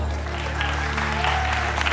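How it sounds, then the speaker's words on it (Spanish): A live comedy show audience gives Pablo a short round of applause, dense clapping under a steady musical hum for about two seconds. "Aplausos para Pablo."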